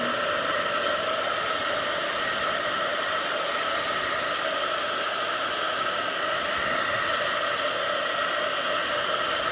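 A hair dryer blows with a steady, loud whooshing roar to heat a Jamberry nail wrap onto a fingernail, running close and unbroken the whole time with no talk.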